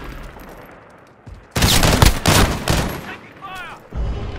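Bursts of automatic gunfire in the Call of Duty Modern Warfare 2v2 Alpha game, loud rapid volleys erupting after a quiet start and continuing in clustered bursts with brief game sounds between.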